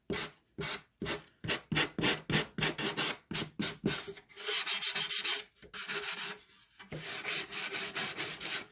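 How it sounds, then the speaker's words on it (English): Hand sanding of a wooden cigar box: rapid rhythmic rasping strokes, close and clear, first in short separate passes, then in a longer continuous scrub, with no talk. "They weren't that bad of a shape, but they did indeed need sanding."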